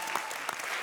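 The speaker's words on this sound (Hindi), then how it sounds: "तालियां" Studio audience applause on a televised Hindi comedy show, a steady, dense burst of clapping filling the short moment without talk.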